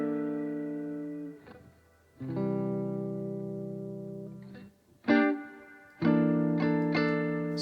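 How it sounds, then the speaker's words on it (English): Electric guitar in a studio mix rings out in sustained chords through spring reverb, delay and a swirling modulation effect, each chord struck cleanly and left to decay with a soft, spacious tail. "Such a cozy electric guitar sound."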